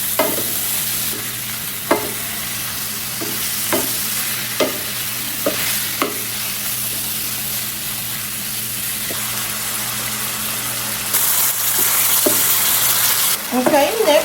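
Ground beef and chopped vegetables sizzle in a skillet while a spoon scrapes and stirs at intervals, a constant frying hiss underneath that grows louder toward the end.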